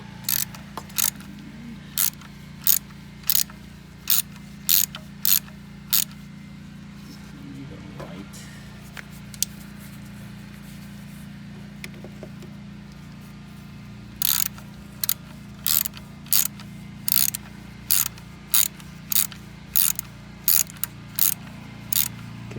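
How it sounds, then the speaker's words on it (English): A ratchet with a 10mm socket backs out the bolts of the Valvetronic eccentric shaft sensor on a 2006 BMW 325xi N52 engine. Two runs of sharp, evenly spaced clicks ring close and clear, split by a quieter gap, over a steady low hum. "Now removing the valvetronic, the eccentric shaft sensor. So I just use the 10mm socket."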